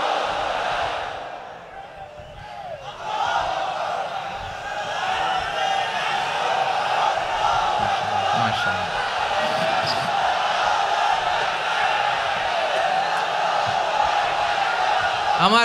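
A large crowd at an Islamic sermon roars out the takbir chant together, loud massed voices swelling into a sustained, dense wall of sound that runs nearly unbroken from start to finish.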